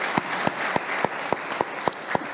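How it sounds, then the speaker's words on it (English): Audience clapping in response to a call for a hand at a women's influence event, a steady wash of applause with sharp individual claps standing out at a regular pace, fairly near and with no voices. "Can we give a hand of applause for that"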